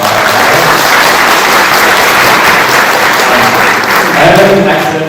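Loud, full audience applause closing an academic panel discussion, many hands clapping in a continuous dense wash with a few faint voices mixed in near the end.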